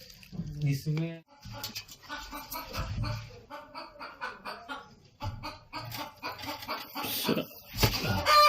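A hen sitting on eggs clucks in short bursts near the start, then people talk over the rest, with occasional faint clucks in the background.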